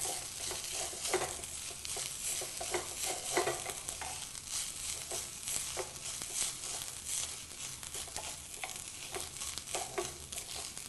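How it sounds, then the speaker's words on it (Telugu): Grated coconut fries in oil for a potato drumstick curry, giving a soft continuous sizzle with repeated spatula stirs and scrapes clicking at irregular intervals. "తురిమి పెట్టుకున్న కొబ్బరి వేయాలి కొబ్బరి వేసి ఈ కొబ్బరి కూడా పచ్చివాసన పోయేంత వరకు ఈ ఆయిల్లో వేయించుకోవాలి"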